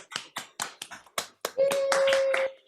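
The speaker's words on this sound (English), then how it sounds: "let's give a big round of applause for Dr. Simone Childs-Walker" A handful of separate hand claps from a small audience welcoming a guest lecturer at an osteopathy talk, spaced out and fairly close, followed by a steady high tone alongside a quick patter of further claps.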